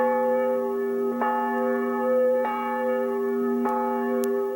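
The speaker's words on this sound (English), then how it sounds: "I ring the bells for the weddings, the ones that want a bell rung." Church bell at the Old Round Church, rung by hand for a wedding, tolling three resonant strikes about a second apart, each leaving a long, ringing hum that carries over the next.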